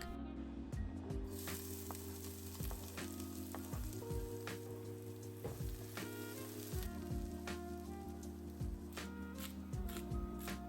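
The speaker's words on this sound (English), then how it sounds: "You then add olive oil to the pan, throw in the shallots, and you want them to get a little golden brown." Shallots and garlic frying in olive oil in a pan give a faint, steady sizzle with scattered small crackles and clicks over a low tonal background, without speech.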